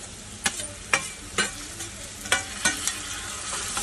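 Beetroot being stir-fried with onions in a pan, a steady sizzle under a run of sharp spatula scrapes and taps, about seven at uneven intervals, close and moderately loud, with no voices.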